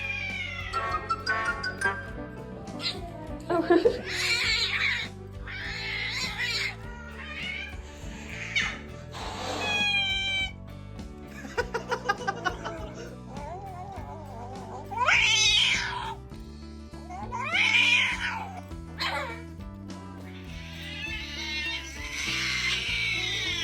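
Cats at the vet meow, yowl and caterwaul in a string of separate loud, drawn-out cries, some strained and wailing, with clattering and handling noises between them.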